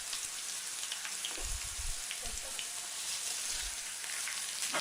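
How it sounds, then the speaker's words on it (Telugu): Mustard seeds frying in hot sesame oil for lemon pickle hiss steadily with soft scattered pops and crackles, close and quiet, no voices. "అవి బాగా హీట్లో వేపడం వలన ఆవాలు పగులుతాయి."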